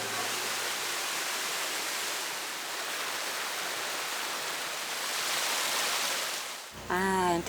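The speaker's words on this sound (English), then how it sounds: "come to the cachoeira and the waterfall and just feel the water that's so pure and so fresh" A waterfall (cachoeira) at a summer yoga festival site gives off a steady, dense rushing roar up close for several seconds. It cuts off abruptly near the end, where a short voiced sound follows.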